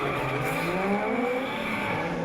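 Michael Thorley's Laurel and Sean Potros's Nissan launch at a D1NZ drifting event in Wellington. Their engines give a loud, continuous high-revving drone with climbing pitch, and faint tire squeal blends in.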